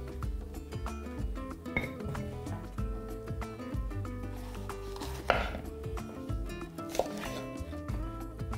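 A knife chops sweet peppers into sticks on a board, quick irregular taps under a continuous low background hum.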